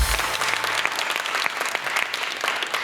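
A studio audience at a Pakistani television talk show claps, a full, bright burst of applause that carries on steadily throughout, loud and close.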